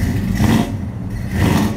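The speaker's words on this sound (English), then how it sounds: "listen to it now with a little bit of cam exhaust work." A 1000-plus-horsepower GMC drag truck with cam and exhaust work revs loudly up close. Two throaty swells surround a brief lull, with no speech.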